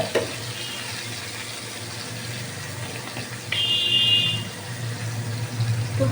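Potatoes, papaya and soybean chunks sizzle steadily in hot oil in a home kitchen pan, a constant frying hiss with a brief bright clatter midway.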